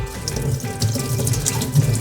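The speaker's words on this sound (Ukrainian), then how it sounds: "Далі тут можна включити воду гарячу і холодну." Water running from a kitchen tap with hot and cold supply, a steady close splashing rush filling the whole short stretch without any voices.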